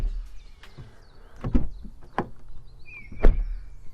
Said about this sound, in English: you want a premium car to have a premium car door shutting sound.